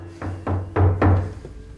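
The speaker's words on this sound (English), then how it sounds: "the loud knock at the door interrupts them" Loud knocking at a door in the horror film The Strangers, about four heavy, dull thuds in an uneven rhythm, close and alone with a low hum underneath.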